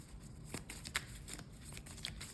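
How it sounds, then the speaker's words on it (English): Cards being shuffled for a solo game of Terraforming Mars: The Dice Game, a soft papery riffling with a few sharper snaps, quiet and close, with no talking. "I'm just going to shuffle up the project."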